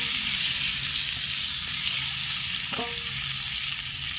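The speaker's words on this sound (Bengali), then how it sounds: "ঘি দিয়ে মাখা গোবিন্দভোগের চাল দিয়ে দিচ্ছি।" Gobindobhog rice coated in ghee frying with whole garam masala in a pan for basanti pulao, a steady close crackling sizzle with a brief utensil clink near the end.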